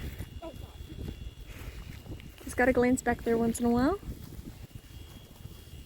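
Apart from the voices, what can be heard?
wind noise on microphone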